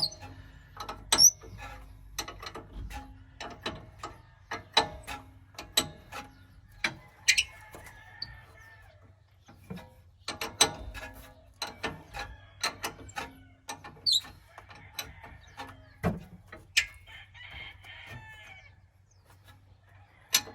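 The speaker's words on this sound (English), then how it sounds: "This top one is the only one you gotta really struggle with the open end wrench with because the leaf spring is in the way." An open-end wrench working a brake bolt on a Chevy 3500 Duramax diesel dually truck, blocked by the leaf spring: quiet irregular metallic clicks and ratcheting taps, scattered over a long stretch with pauses, close by.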